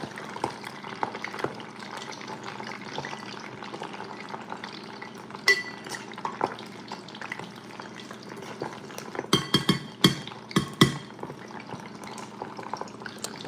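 Wet food hits hot frying oil in a kitchen, giving a steady sizzle with a cluster of sharp spattering crackles near the end, alongside light clinks of pans and utensils and no talking.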